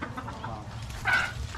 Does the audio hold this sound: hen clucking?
yes